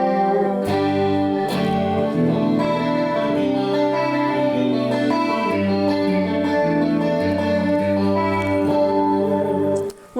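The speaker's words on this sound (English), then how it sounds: "chorus to get like a nice wavering sound of two notes" Electric guitar through a chorus effect, two slightly detuned notes wavering against each other in a shimmering, swirling tone, played as a continuous loud melodic phrase with sustained chords and a slight distorted edge.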